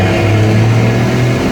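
A first-generation Cummins diesel truck pulls hard in third gear with a loud, steady low engine drone that holds a sustained tone throughout, close and with no talking.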